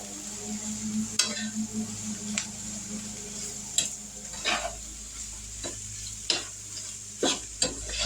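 Cabbage and potatoes fry in a pan under a steady sizzle, while a utensil tosses them in irregular clanks and scrapes, close and clear with no talking.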